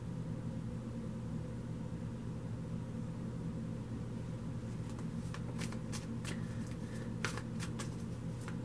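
Tarot cards are shuffled and drawn, with a string of quick, close riffling snaps in the second half over a steady low background hum.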